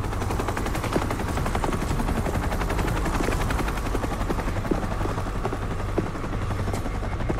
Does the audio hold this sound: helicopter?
yes